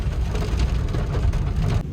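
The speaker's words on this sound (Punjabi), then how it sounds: "ਬਾਰਿਸ਼ ਅਜੇ ਵੀ ਬਹੁਤ ਜ਼ਿਆਦਾ ਆਉਂਦੀ ਆ ਦੇਖੋ" Heavy rain pouring steadily, a loud dense patter and rumble with no pauses.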